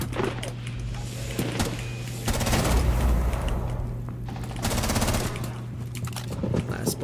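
Gunshots from a shooter video game rattle in short rapid bursts over a humming game backdrop, with a couple of louder volleys in the middle and near the end.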